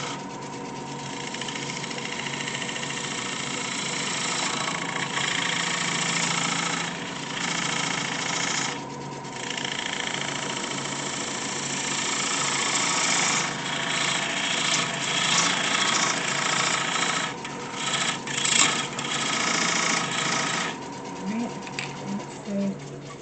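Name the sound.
chiseling wood with homemade tool, woodturning a bowl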